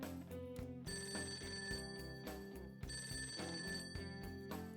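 Repeated bursts of a telephone ringing in the video game Persona 5 Tactica, a bright electronic trill over a soft musical backdrop, with no talking.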